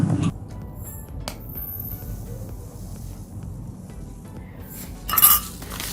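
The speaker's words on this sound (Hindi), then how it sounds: "2 टेबलस्पून चिया सीड को एक बाउल में डाल लें।" Chia seeds are spooned into a bowl, with a few light clinks of the spoon against the bowl, one brighter rattle near the end, and quiet background otherwise.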